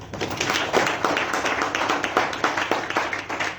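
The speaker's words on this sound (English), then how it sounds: "I think she deserves a round of applause for that." Members of Zimbabwe's parliament applaud in a sustained round of dense clapping filling a chamber, steady and fairly loud with no speech over it.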